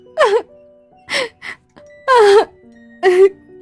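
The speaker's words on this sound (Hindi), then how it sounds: "तभी उसको वही रोने की आवाज सुनाई दी" Ghostly crying wail in a Hindi horror story: four separate moaning, sobbing cries rise and fall in pitch with short silences between them, close and fairly loud, alone without talk.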